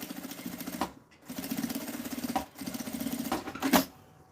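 A sewing machine stitches a fabric seam under a flap on a pencil case, running in three bursts of rapid, even mechanical hum broken by brief pauses, close up with no talking.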